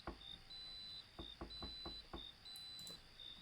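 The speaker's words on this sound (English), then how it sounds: "You're gonna have to enjoy the beeping." Faint repeating electronic beeps in a room, short high tones recurring about every second, alongside several soft knocks and a low background hum, with no talk.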